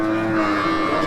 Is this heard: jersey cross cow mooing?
yes